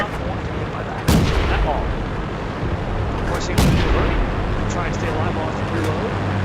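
Two heavy, booming tank cannon shots in a World of Tanks-style game featuring a Panzer B2 heavy tank, each a sharp blast with a rumbling tail, over a constant engine drone.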